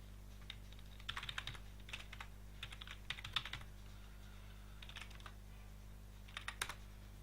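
Computer keyboard keys clatter in short bursts as a password is typed to log into the shooter game Combat Arms, quiet and close, with pauses between groups of keystrokes over a low steady hum.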